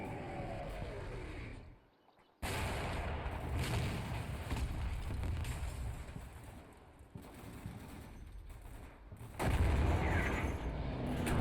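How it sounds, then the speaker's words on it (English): A continuous artillery barrage in the Combat Mission Shock Force 2 war game, with dense rumbling explosions and booms throughout, briefly dropping away before resuming louder near the end. "OP-104 gets hit with yet another Syrian barrage."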